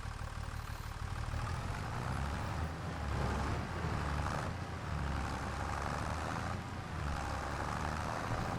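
An old John Deere tractor drives steadily in a dairy farming game, its engine droning continuously at a moderate level with a low rumble and no voices.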